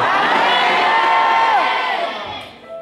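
A church congregation loudly shouting amen together, a dense sustained roar of many voices with rising whoops that fades out at the end.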